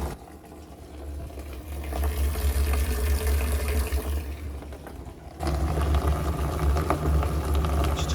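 Tap water running into a plastic rainwater barrel, a continuous splashing rush that gets louder and fuller partway through as the flow picks up, with no talk.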